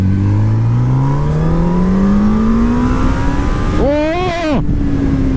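A 2018 Honda CB1000R motorcycle roars close and loud, its engine note climbing steadily as it pulls through the gears, then a brief shift dip and a revving surge before settling again.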